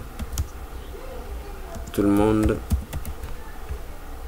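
Fingers type on a computer keyboard in quick, close clicks, with a brief spoken voice partway through.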